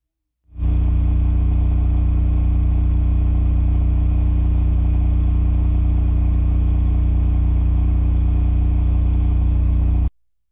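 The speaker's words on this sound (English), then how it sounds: "Here is the RS-20A from Cummins Power Generation." Cummins RS-20A generator running under load at 3,600 RPM, a loud steady engine drone with a strong low hum that starts abruptly, holds unchanged for about ten seconds and then cuts off.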